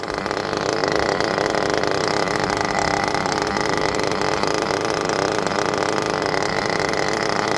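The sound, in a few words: nitro RC engine revving during break-in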